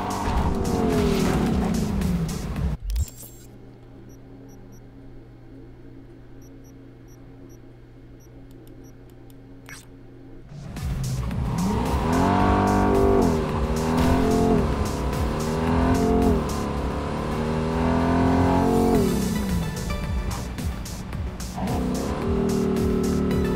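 A car driven in the video game Cyberpunk 2077: after a short burst of engine noise and a quiet lull, the engine roars and revs loudly with squealing, skidding tyres, sustained and close.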